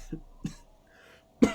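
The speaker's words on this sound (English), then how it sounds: "Fuck, that was an actual cough." A man coughs up close in short bursts: two quick coughs, a pause, then a louder harsher cough at the end.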